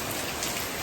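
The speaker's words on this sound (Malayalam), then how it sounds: "ഇവിടെ നല്ല മഴയാണ്" Steady rain pours down at Karinthiruthi on the bank of the Chaliyar river, a dense continuous hiss with no voices.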